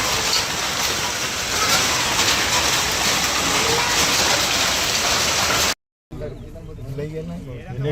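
Hail falls hard and fast in a dense, loud rattling roar with no gaps, then cuts off abruptly into a quieter stretch of background sound.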